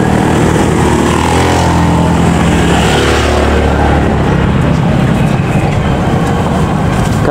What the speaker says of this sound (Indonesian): Kereta KAI 4 persiapan melintas langsung di stasiun Karacondo.